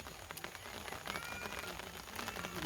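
Steady rain falls outdoors on a metal stand and surrounding surfaces, a continuous dense patter with scattered louder drops, fairly close and without talk.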